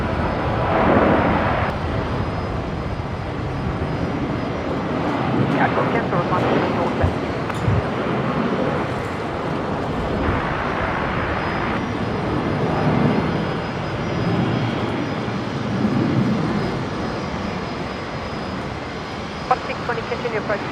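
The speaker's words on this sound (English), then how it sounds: "Next departure, Virgin 336 to Melbourne." A Virgin Australia airliner, flight 336 to Melbourne, departs Brisbane Airport with a loud, steady jet engine roar that swells and fades, and people talk over it throughout.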